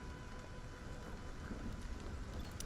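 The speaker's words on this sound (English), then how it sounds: "Oh, a thunderstorm." A thunderstorm in the video game Stranded: Alien Dawn gives a steady hiss of rain with soft low rumbling beneath, fairly quiet and continuous, with no speech.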